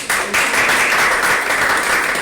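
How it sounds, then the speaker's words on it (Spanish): A church congregation breaks into applause during a worship service, bright continuous clapping that begins abruptly and holds steady at fairly close range. "Un aplauso."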